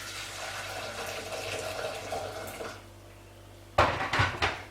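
A cooking pot is handled in a home kitchen, with a low hum under the first half, then a quiet gap and a sudden loud metallic clank and rattle near the end.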